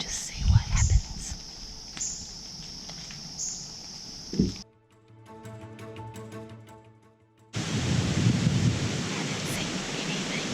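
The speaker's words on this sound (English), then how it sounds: "the wind has gotten crazy" Strong gusty wind outdoors at a tree stand during a bow hunt, broad roaring rush with buffeting low rumbles, dropping briefly to a quieter lull before surging loud again.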